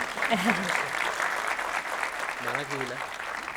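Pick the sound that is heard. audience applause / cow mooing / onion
audience applause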